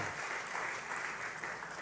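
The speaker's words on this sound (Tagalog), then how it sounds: "baka hindi nyo marinig kasi pumapalakpak kayo" A church congregation applauding during a sermon, a steady dense clapping that holds evenly throughout without pause.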